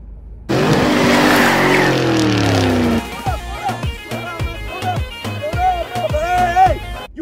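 A car pulls away hard on a test drive, a loud burst of tire squeal and engine roar for a few seconds, then quieter engine sounds while people talk.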